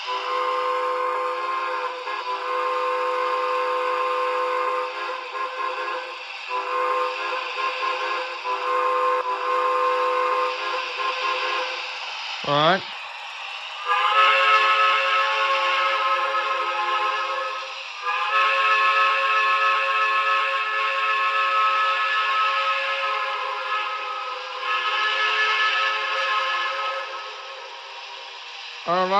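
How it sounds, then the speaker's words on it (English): A BLI New Haven I-4 model steam locomotive sounds its whistle in long, loud, sustained chime blasts, broken by short pauses and a brief pitch-bending dip midway, with a single spoken word near the end. "Very good whistles on this locomotive."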